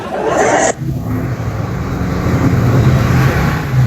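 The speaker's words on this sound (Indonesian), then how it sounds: "Kok ada mobil polisi?" A police car drives past on a street, a steady engine and road rumble rising and holding throughout, with a brief high whine at the start cutting off abruptly.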